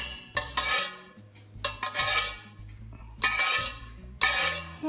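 Metal cooking pot swirled with oil and scraped by a stirring utensil while making peanut rice cake, clattering and clinking in repeated bursts of scraping close to the microphone.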